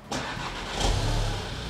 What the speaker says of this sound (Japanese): せっかくなのでエンジンまずかけてみましょう。